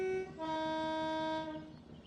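A class 87 electric locomotive moving off in Train Sim World 5 on the West Coast Main Line over Shap, giving a loud, close two-tone horn blast that holds for over a second over a rumbling rail background.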